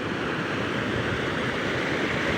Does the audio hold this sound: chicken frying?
no